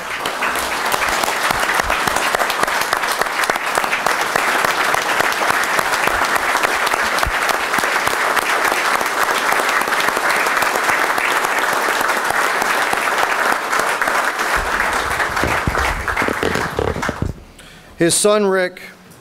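Sustained, loud applause from an audience at an American Legion National Executive Committee meeting welcoming guests, dense clapping that carries on evenly before fading out near the end, followed by a brief spoken voice.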